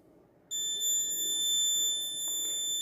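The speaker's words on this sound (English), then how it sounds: "So, dry detection alarm is on." A smart baby cradle's dry-detection alarm switches on abruptly and holds a loud, continuous high-pitched electronic tone after a quiet start.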